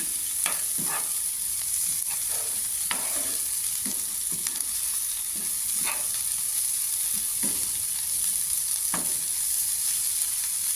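Onions frying in a pan for Tamil-style egg curry, a steady close sizzle with scattered stirring clicks and scrapes of a spoon against the pan, no voices.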